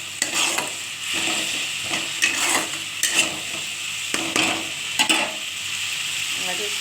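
Ginger tossed into a pan of oil for a morola fish recipe with gondhoraj lemon, sizzling steadily while a utensil scrapes and stirs in repeated sharp strokes.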